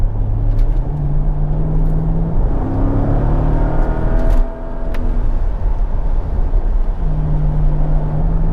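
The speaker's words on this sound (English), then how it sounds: "Stop spinning the wheels!" A Mercedes SL R230 roars close up with a loud, sustained engine drone whose pitch rises and falls as the wheels spin.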